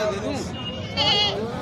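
Goats bleat at a goat market, several wavering cries rising over steady market chatter and a voice asking about prices close by.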